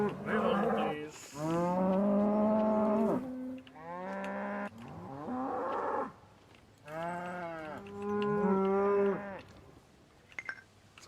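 Several cows moo in a Thomas & Friends video game, long drawn-out lowing calls one after another across the scene, close and loud, with short gaps between them and no talk over them.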